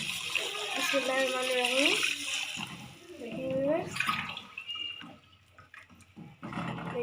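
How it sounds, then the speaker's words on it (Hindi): Water poured from a glass into a cooking pot of spinach and gram-flour curry, a steady splashing pour under a voice, followed by a second pour as he continues talking. "2 गिलास हम इसके अंदर पानी शामिल करेंगे।"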